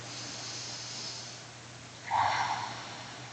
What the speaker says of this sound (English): Three more nice deep breaths, breathing into the back of the body,